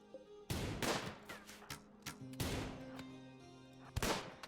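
Colonists fire guns during a RimWorld battle: several sharp gunshots and short bursts of video-game gunfire come in irregular clusters, fairly quiet in the mix.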